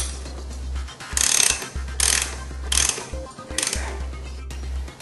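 A hand ratchet snugs up a sprocket bolt, its clicking pawl rattling in four short bursts separated by pauses, close and clear over a low steady hum.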